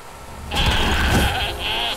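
A goat in the Viking strategy game Wartile lets out a loud, close bleat lasting about a second, followed by a shorter trailing bleat, with no talk over it.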